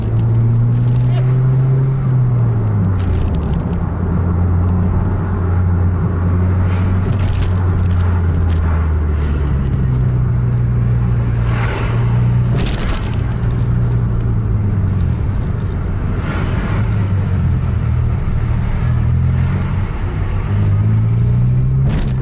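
Car engine held at full throttle during a night road race in Aceh, a loud steady drone with rising and falling pitch as it accelerates and shifts, continuous throughout.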